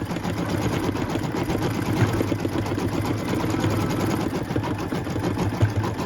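An embroidery machine stitches green thread hinges for a quilted barn project, a steady, fast, even chatter of needle strokes running continuously at close range without speech.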